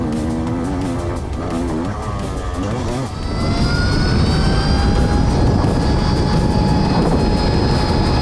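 A Stark VARG electric dirt bike and a two-stroke dirt bike launch, with a rising, revving engine note that gives way to a loud, steady roar with high whining tones, close and continuous.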